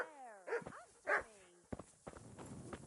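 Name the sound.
dog barking in video game Kingdom Come: Deliverance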